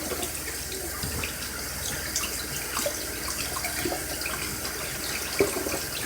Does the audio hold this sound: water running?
yes